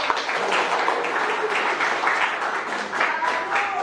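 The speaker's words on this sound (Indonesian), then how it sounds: "Oke, berikan aplaus." An audience in a lecture-style gathering claps steadily and continuously for about four seconds, a dense even applause with no voices standing out.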